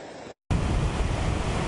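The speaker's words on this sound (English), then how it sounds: "Listen to the roaring sound of this creek that busted through Roadrunner Road near Sand Canyon in Santa Clarita." A roaring creek rushes over flooded Roadrunner Road near Sand Canyon in Santa Clarita, a loud, dense, unbroken roar after a brief quieter opening and a short cut.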